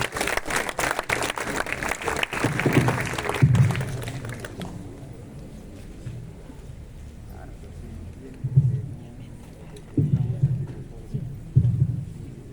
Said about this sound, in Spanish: Brindémosle fuertes aplausos.